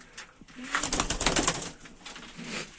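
Crested pigeons coo in low, throaty bursts nearby, with soft rustling and a faint voice in the background.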